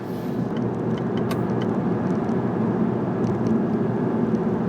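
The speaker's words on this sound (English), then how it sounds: "There's some engine noise. You can hear kind of mid tones and upper level tones." Cabin of a 2020 Volkswagen Jetta GLI with 7-speed automatic cruising on new autobahn pavement, a steady engine hum with mid and upper tones over soft road noise, constant and fairly subdued.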